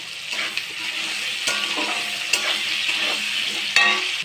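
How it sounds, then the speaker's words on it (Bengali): Green chili, onion and potato fry in a pan with salt and turmeric, a steady close sizzle broken by a few sharp scrapes and clatters of stirring. "আমি এখানে কাঁচা লঙ্কা, পেঁয়াজ, আলুটা একসাথে দিয়েছি, এটা একটু ভাজা ভাজা হবে।"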